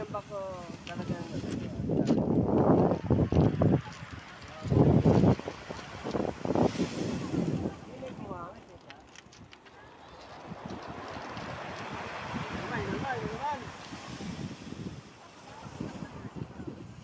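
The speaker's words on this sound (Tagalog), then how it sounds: "Laki ng alon." Big ocean waves surging and breaking in heavy bursts amid strong wind buffeting the microphone, with voices talking over the rushing water.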